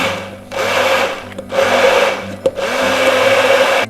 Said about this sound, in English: Get a immersion blender and pulse.